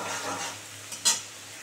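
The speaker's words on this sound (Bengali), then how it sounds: "মশলাটাকে ভালো করে লাল করে একদম কষিয়ে তারপরে পনিরটা দিয়ে দিতে হবে।" Spice masala for paneer manchurian is stir-fried in a pan: a brief, soft sizzle with one quick metallic spatula scrape near the end.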